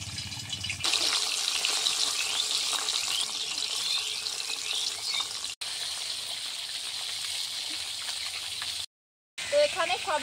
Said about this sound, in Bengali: এক এক করে আমি এবার মাছগুলোকে ভেজে নিচ্ছি